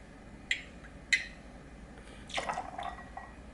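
Bacardi Raz rum poured over a few ice cubes in a shaking glass: two sharp clinks followed by a brief liquid splash and trickle, close and fairly quiet.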